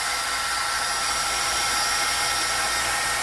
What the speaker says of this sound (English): I've already heated my heat gun up just a little bit, so maybe it won't take so long